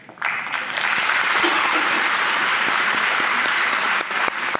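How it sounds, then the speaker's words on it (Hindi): Loud, dense applause from a career counselling seminar audience, a sustained wash of many hands clapping steadily for over four seconds with no talk over it. "तो एक बार ताली में उतना मजा नहीं है, थोड़ा और जोर से बजा दीजिए"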